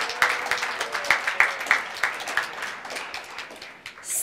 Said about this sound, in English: Oh, I forgot to wait for the clap.